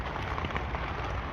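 Cold rain falling outdoors in harsh weather, a steady dense wash of drops close by, constant and fairly loud with no pauses and no voices.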